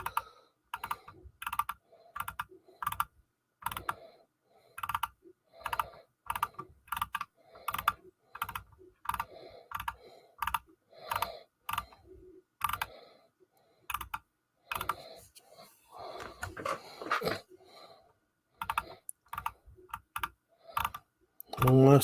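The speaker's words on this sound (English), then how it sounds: "you're gonna have to listen to a bit of ASMR of me clicking this mouse for a while" A computer mouse is clicked over and over in quick irregular bursts, crisp and close, with brief pauses between runs and a short stretch of other handling noise.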